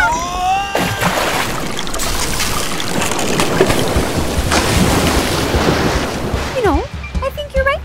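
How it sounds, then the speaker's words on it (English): Strong wind roars and gusts steadily with a rushing, storm-like wash, while voices and some bright chirping tones sound over it. "If this wind and rain keeps up, the water will get into the base."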